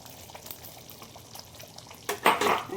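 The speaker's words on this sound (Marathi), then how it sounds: "आता उकळी फुटलेली आहे" A pot of cashew curry gravy on the boil gives a faint, steady bubbling that turns into a sudden loud burst of splashing and stirring near the end.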